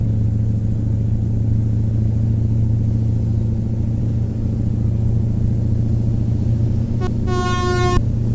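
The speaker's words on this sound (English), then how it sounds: "It's an air horn." A truck air horn sounds in American Truck Simulator from a Mack Ultraliner hauling a B-double tipper, one short loud blast at the very end over a steady low engine drone.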